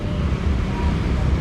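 Street traffic in a neighbourhood in Tangerang, Indonesia, a loud continuous roadway rumble with low engine drone and a buffeting wind-like wash, no distinct individual vehicles standing out.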